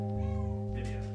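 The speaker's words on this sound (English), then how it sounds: "Cute kitty cat." A cat gives a single long, drawn-out meow, loud and close, with a wavering tonal pitch.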